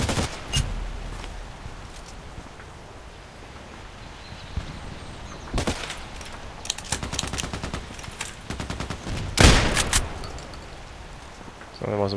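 Shotgun blasts in the online shooter Contract Wars ring out in scattered single shots and quick clusters over quiet ambience, with one especially loud close blast near the end.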